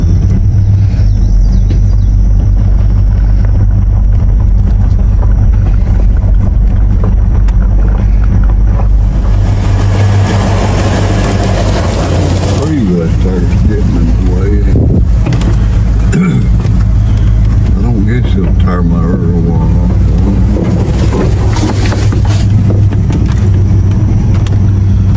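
A tractor driving around a barn gives a loud steady engine rumble close to the microphone for the whole stretch, with wind buffeting and some brief voices partway through.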